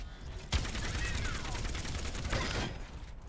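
Orisa's rapid-fire gun in the shooter Overwatch 2, a dense stream of fast repeated shots fired at close range, with whooshing projectile trails and a short break in the burst.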